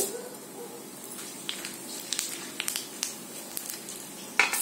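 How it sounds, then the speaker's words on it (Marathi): Whole spices roasting in a hot pan, a steady sizzle stirred with a spoon, with sharp scrapes and clicks of metal against the pan throughout. "आता हे सर्व काढून घेते चमच्यानी आणि ह्याच्यामध्ये आहे ना बाकीचे मसाले भाजून घेते"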